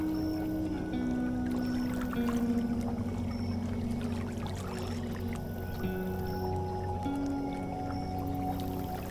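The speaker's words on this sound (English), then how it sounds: "You can actually hear the water lapping against the hull again." Water laps softly against the hull of a boat sitting still with its engine shut off, a steady low wash with occasional gentle slaps and faint creaks running throughout, fairly close and without talk.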